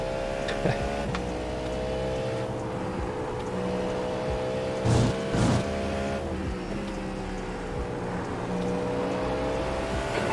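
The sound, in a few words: race car engine in a sim racing video game at Watkins Glen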